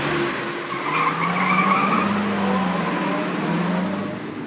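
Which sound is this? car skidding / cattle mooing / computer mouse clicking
car skidding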